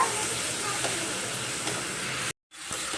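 Food sizzles and hisses in a hot pan in a steady crackle, briefly cutting out to silence near the end before the sizzle resumes.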